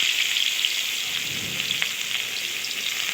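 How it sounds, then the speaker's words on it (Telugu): Onion pieces frying in hot oil for tomato egg curry, a dense bright continuous sizzle like steady rain, loud and close with no speech. "ఇప్పుడు వచ్చేసి ఆయిల్ అనేది వేడైంది కదండి ఉల్లిపాయ ముక్కలు వేసుకున్నాము"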